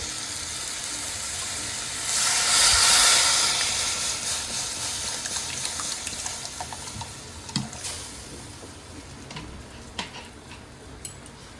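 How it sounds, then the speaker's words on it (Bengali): Water poured into a cooking pan of spinach and masala for a Bengali puti fish curry, a broad splashing hiss swelling for a second or two, then fading into softer stirring clinks and gentle bubbling. "এবার আমি জল দিয়ে দেবো।"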